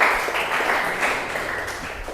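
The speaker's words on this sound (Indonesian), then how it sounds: "Tepuk tangan untuk kita semua." Children in a classroom clapping together, a dense, continuous patter of applause at close range that tapers slightly over about two seconds.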